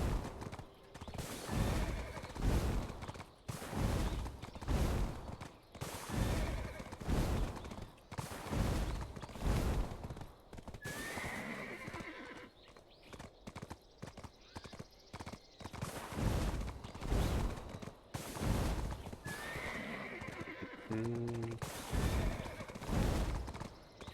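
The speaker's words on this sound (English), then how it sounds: "I'm spending 40 minutes running my horse back and forth" Hooves pound rhythmically as a horse gallops in the online game Black Desert Online, loud regular strikes with a brief pause midway and an occasional whinny.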